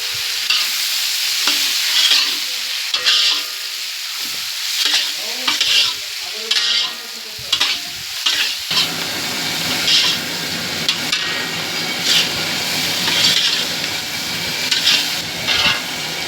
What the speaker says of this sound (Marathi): अद्रक, लसूण, कांदा भाजून घेतो.